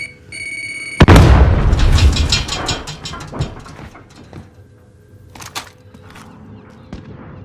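A frag grenade goes off in Warzone 2 gameplay with a single loud, close boom, and the blast rolls and rumbles out over a few seconds. Fainter pops and clatter follow afterward.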